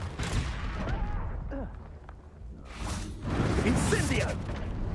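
Confringo blast spells cast in the game Hogwarts Legacy during a fight, with whooshing bursts and crackling impacts in quick succession, mixed with a shouting voice and other spell effects.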